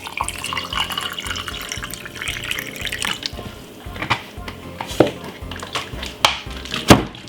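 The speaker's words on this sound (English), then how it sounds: "get a bottle of water and pour it on it like this" Water poured from a bottle into a detox bedtime drink being prepared, a steady splashing stream with small drips and sharper splashes toward the end, close and moderately loud with no talk.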